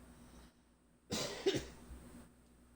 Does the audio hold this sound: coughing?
yes